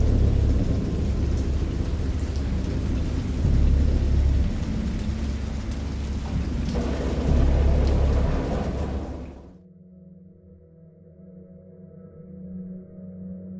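Heavy rain pours steadily with deep rumbling thunder, then cuts off abruptly to a quieter, low humming background for the last few seconds.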